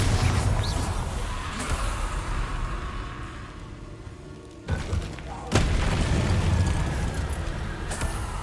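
In Hogwarts Legacy, a Bombarda blasting spell goes off amid a loud, dense game soundscape, with booming rumbles that briefly dip and then surge back, and a voice heard over the din.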